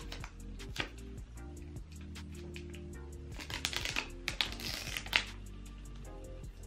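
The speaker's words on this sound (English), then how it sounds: "So let me just remove this plastic." Protective plastic peeled off a new pair of glasses, soft close crinkling and small clicks with scattered ticking handling noises, quiet and irregular, growing busier toward the end.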